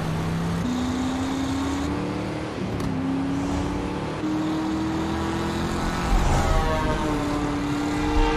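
A news helicopter in the Driver San Francisco video game, its engine as a steady droning whine with rising, shifting pitch, mixed with car engine noise, continuous and fairly loud.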